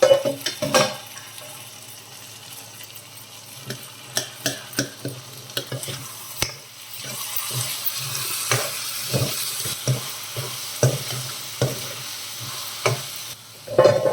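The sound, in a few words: bottle gourd masala curry cooking in a covered pan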